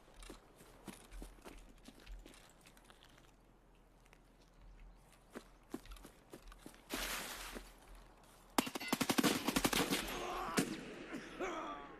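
Gunfire in Escape from Tarkov, a shooter game: quiet footsteps and scattered single shots at first, then a louder burst and a dense rapid volley of close gunshots with sharp cracks near the end.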